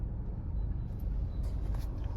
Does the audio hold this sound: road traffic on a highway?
yes